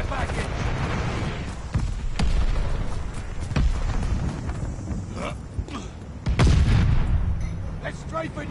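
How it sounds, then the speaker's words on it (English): Glide bomb explosions in a Call of Duty video game: loud booms and sharp blasts go off at irregular intervals over constant battle rumble, with a heavier blast near the end and voices talking in between. "Heads up, enemy glide bomb coming in hot."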